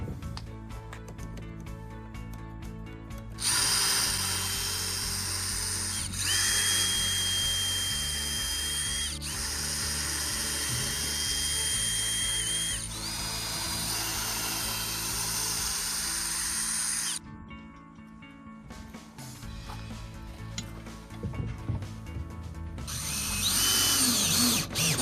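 A power drill drives screws while trim and a latch are fitted in an off-grid Maine workshop, with several sustained whirring bursts of steady motor noise broken by short pauses, loud and close.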